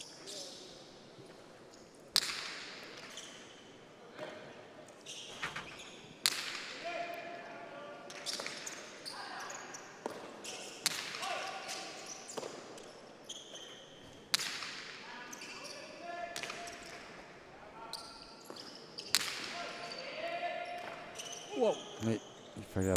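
Pelota ball striking and rebounding off the wall and floor during a cesta punta final match, sharp echoing cracks at irregular intervals in a large fronton, with a commentator speaking over them.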